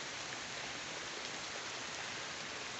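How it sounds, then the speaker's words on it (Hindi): Heavy rain pours down at a home in Karachi, a dense, steady hiss of drops hitting surfaces with no pauses or voices. "इस वक्त बहुत ज़्यादा बारिश हो रही है हमारे एरिया में"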